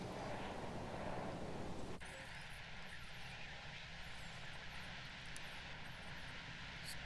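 Steady roar of an ACU helicopter in the video game Jurassic World Evolution, loud and continuous throughout, shifting to a slightly thinner drone partway through, with no talk over it.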